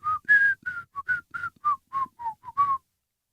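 A person whistles a tune, a run of about a dozen short, clear melodic notes in quick rhythm, close and alone with no background.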